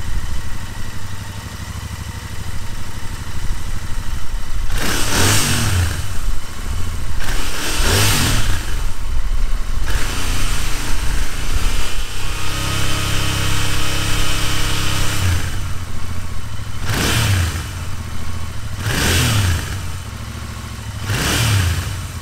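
A Royal Enfield Interceptor 650 twin motorcycle is revved to about 4000 rpm in five loud separate bursts, each climbing sharply and then falling back to a rumbling idle, heard up close with no speech.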